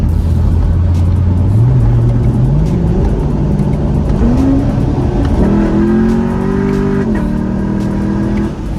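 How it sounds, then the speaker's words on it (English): A Chevrolet Corvette C7 fitted with a Holley intake pulls hard on a freeway, its engine note climbing steadily through gears with short shift breaks, loud and close from inside the car. "Now we're on a little side part of the freeway, so let's do a quick pull."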